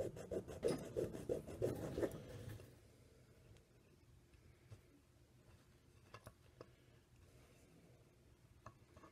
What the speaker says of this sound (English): I'm going to cut this right between the 2 picks.